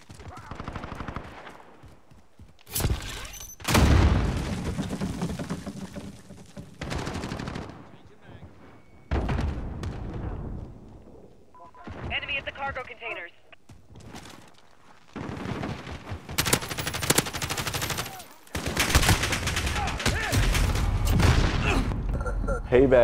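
Grenade blasts and bursts of automatic gunfire in Call of Duty: Modern Warfare (2019), loud and close, with heavy booms and rapid shooting in uneven waves and short quiet gaps, voices talking over parts of the action.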